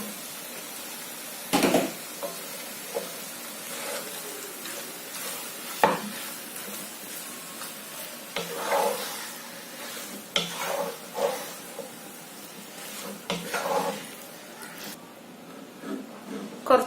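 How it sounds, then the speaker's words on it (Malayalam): Chicken gets stirred into masala in a pan for a Kerala-style varutharacha curry. A steady sizzle runs under repeated scraping and clattering of a spoon, with occasional sharp knocks against the pan. "ഇത് ഇളക്കി മസാലയെല്ലാം ചിക്കനിലേക്ക് ആക്കി കൊടുക്കുക."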